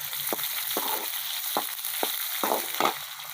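Onions fry in hot oil in a pan over a steady, close sizzle, with a handful of distinct stirring taps and scrapes spaced through it.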